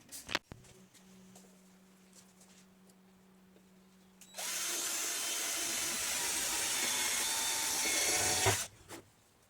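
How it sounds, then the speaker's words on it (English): A power drill whirs loudly and steadily for about four seconds after a short stretch of quiet, then stops abruptly. "So we're going to go ahead and drill those"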